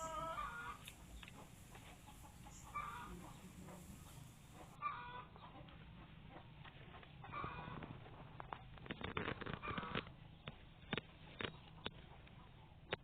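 Native village chickens cluck quietly in scattered short bursts, some louder and closer toward the end, over a low rural background.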